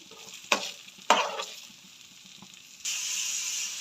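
Sliced onions land in melted butter in a pan, two sharp bursts of scraping stir followed by a quiet lull, then a steady bright sizzle rises and holds to the end.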